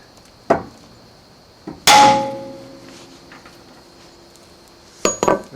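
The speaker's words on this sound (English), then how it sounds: "Should see that C-press get loose after a couple of whacks." Three sharp hammer whacks ring out against a steel C-press on a 1995 Ford Crown Victoria front suspension, the middle blow loudest with a metallic ring that decays slowly, the last a quick double strike.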